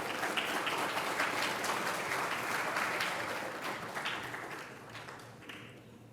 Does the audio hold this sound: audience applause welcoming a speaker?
yes